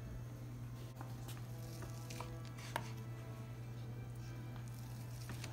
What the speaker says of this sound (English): So yeah, you just cut it into pieces about what, like half inch thick